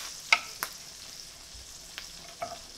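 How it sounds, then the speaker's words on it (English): Morel mushrooms frying in a pan of oil or butter, giving a soft steady sizzle with a few sharp stirring clicks and scrapes scattered through it, close by and with nobody talking. "You can fry your morels in either oil or butter"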